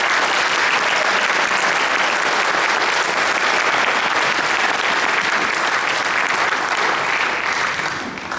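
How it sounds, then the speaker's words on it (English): Loud, dense applause from a crowd at a school Christmas concert, sustained and even for several seconds before tapering slightly at the end. "Give him a round of applause"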